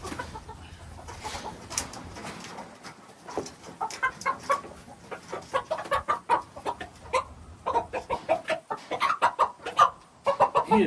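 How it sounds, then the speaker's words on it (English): A rooster clucks repeatedly up close, irregular bursts of short clucks growing busier and louder, with no talking. "So this is a famous rooster."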